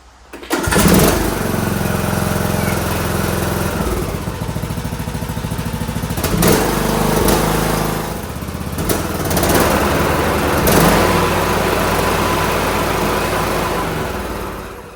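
A repaired Briggs engine on a John Deere D105 lawn tractor runs loud and close, a steady rumbling drone with brief surges in pitch, continuing throughout with no talking.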